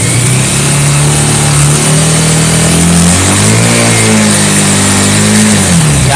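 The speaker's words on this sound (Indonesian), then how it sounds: "Coba perhatikan agak saya gas gitu." A Bajaj Pulsar motorcycle engine with two spark plugs, one of them cutting out at about 6000 RPM, revs loud and close, its pitch climbing and settling in a steady drone with no talking.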